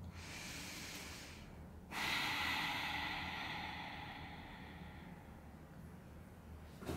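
Slow, deep breaths during a beginner yoga strength session, a long inhale-exhale close to the mic with airy hissing, one breath rising sharply at about two seconds and fading gradually.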